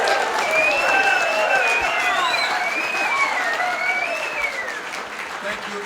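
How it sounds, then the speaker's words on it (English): Festival audience applauding loudly and steadily in a crowd, with tonal whistle-like cheering or voices riding over the dense clapping throughout. "So I think we need to give a big round of applause."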